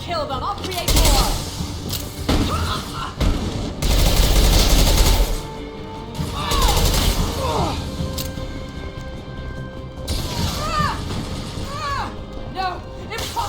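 Heavy gunfire in Mass Effect 2 during a battle against a warlord: loud bursts of automatic fire and crashing impacts come in waves, with voices speaking between the volleys.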